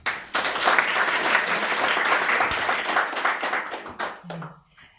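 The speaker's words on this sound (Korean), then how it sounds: "여러분 박수로 모십시다." An audience at a civic democracy education seminar in Korea bursts into dense applause, sustained and lively for several seconds before tapering off, with a voice entering at the close.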